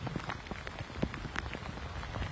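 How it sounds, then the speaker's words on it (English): Heavy rain pouring steadily during a storm in Southern California, a dense constant hiss with scattered louder drops and patters, close and loud. "the second and stronger surge of rain will arrive later this morning. Feels like it's here now"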